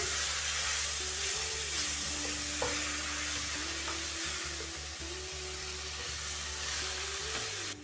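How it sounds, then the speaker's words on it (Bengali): Steady oil sizzle as pumpkin stems are lightly fried in a pan, a continuous hiss with a low rumbling hum beneath and occasional soft clinks, close and fairly loud. "এবার হালকা করে একটু ভেজে নেব।"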